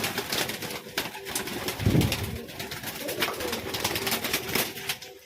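A male French pigeon coos softly several times, the calls faint and close against quiet background rustling and light clatter, with no talk.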